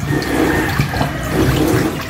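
Water pours steadily into a pan of marinated pork with garlic, onion and bitter melon, a loud continuous splashing rush lasting about two seconds.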